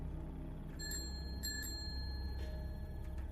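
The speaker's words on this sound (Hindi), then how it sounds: "घंटी फिर बजी" A bicycle bell rings in a few quick bright dings over a quiet, dark ambient bed, fairly soft and alone in a spooky setting.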